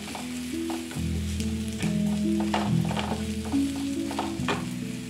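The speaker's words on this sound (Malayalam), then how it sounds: "വഴറ്റാം." Carrots stirring and sautéing in a pan give a steady soft sizzle with scrapes of a spoon, heard alone throughout.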